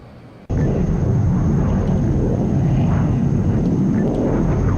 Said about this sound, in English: Quietest F-35 I think I've ever witnessed.